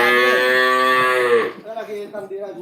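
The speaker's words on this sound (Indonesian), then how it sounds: "ini sapi yang baru datang" A cow at a cattle pen gives one long, loud, close moo that drops in pitch at the end, followed by quieter shuffling and a few faint sounds.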